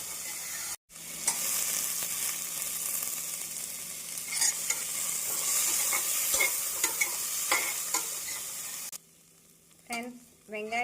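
Onions with ginger garlic paste, green chilli and curry leaves fry in a pan for tomato biryani, a continuous close sizzle with repeated spoon stirs that stops near the end, followed by a brief faint voice.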